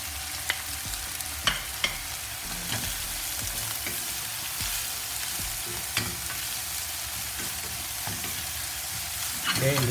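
Onions fry in Rama olive oil in a pan, giving a steady close sizzle with a few scattered sharper pops and light stirring taps, no talking over it.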